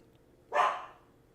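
A single short dog bark, fairly close but not loud, standing alone against a quiet indoor background.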